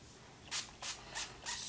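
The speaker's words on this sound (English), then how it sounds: "spray that with a little spritz, and with the oil sheen" Four short hissing spritzes from an oil sheen spray bottle onto hair, evenly spaced bursts against a quiet background.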